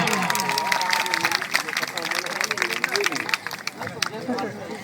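Spectators at an outdoor village kabaddi semi-final clap and cheer after a successful raid, a busy burst of applause mixed with crowd noise while a commentator talks over it.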